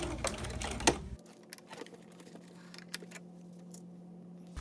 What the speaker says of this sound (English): I can see that I am sewing nice and parallel to that red line.